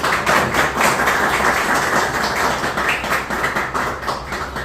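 An audience applauds at an academy ceremony honouring a woman selected for the police force, a dense, sustained clapping that continues throughout with slight swells and fades.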